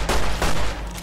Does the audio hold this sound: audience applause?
no